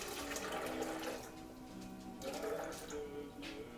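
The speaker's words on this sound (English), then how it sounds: "I'm going to put 2 cups of water in" Water pours steadily into a blender for a few seconds, a continuous splashing rush with a slight gurgle, close and fairly loud.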